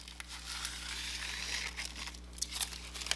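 Hot fix rhinestone transfer tape being trimmed along the sides of a rhinestone and glitter HTV tumbler design, giving soft, steady crinkling and crunching with a few sharper snips near the end, close and quiet, without talk.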